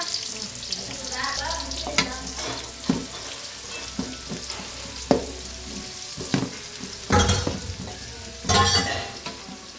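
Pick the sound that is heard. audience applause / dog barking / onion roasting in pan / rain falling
onion roasting in pan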